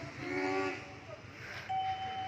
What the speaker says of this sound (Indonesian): Dan ini lokomotif langsung ngebut.